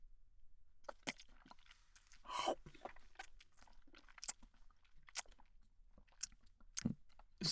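Close, quiet crunching and biting as a cockroach is chewed, in irregular bursts of crisp crackles separated by short pauses.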